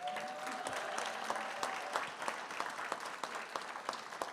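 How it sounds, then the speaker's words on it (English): An audience at a 50th anniversary celebration for Ethos claps for a commissioner, steady dense applause with sharp individual claps standing out, fairly loud and continuous throughout. "Give her a big round of applause."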